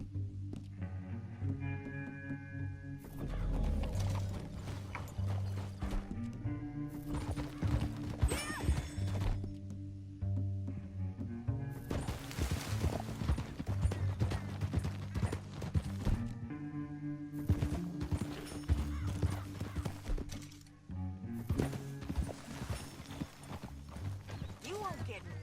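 Horse hooves clip-clop steadily through Red Dead Redemption 2 gameplay, with occasional whinnies, a music score underneath and character dialogue talking over much of it.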